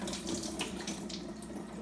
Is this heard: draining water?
yes